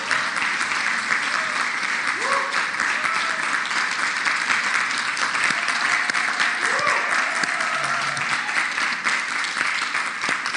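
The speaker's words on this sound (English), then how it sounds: "Let us clap for them." Sustained applause from a conference crowd in Kigali, Rwanda, loud and continuous throughout, with a few faint voices mixed in.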